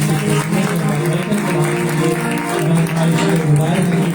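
Applause in a church congregation, a dense continuous wash of many hands clapping at steady loudness throughout, with no voices standing out.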